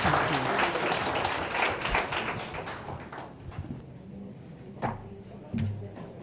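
An audience at a business and arts panel event applauds, a dense burst of clapping that starts loud and thins out to a few scattered claps, with a brief voice near the end.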